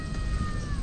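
A cat lets out a single short meow close by, over a low, steady background rumble.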